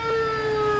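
A police siren wails steadily and loud, its tone holding a sustained pitch with slight drift over under a second, with no talking over it.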